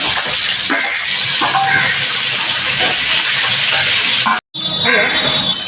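Loud hissing sizzle of potatoes frying in hot oil, steady and close, briefly cutting out near the end before resuming.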